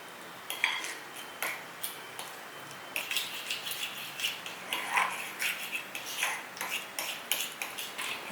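A spoon clicks and taps steadily against a bowl while cornstarch is stirred into a batter of lotus root and pumpkin, a quiet rhythmic scraping close up with no talk.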